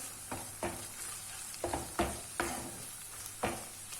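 Spiced minced meat for Ali Nazik kebab sizzles in a pan while a spoon scrapes and stirs it in several distinct strokes, fairly close and with no talk.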